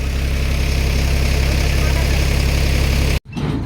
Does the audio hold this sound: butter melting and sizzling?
no